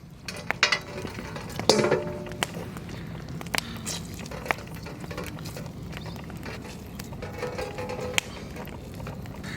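Duck meat being mixed with spices for a marinade in a village kitchen, with irregular clinks, taps and scraping clatter from a bowl or utensils over soft background noise.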